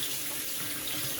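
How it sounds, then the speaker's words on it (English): Tap water runs steadily into a sink as hot sauce packets are rinsed out, a close, continuous hiss and splash throughout with no talking. "So I'm just gonna rinse it out."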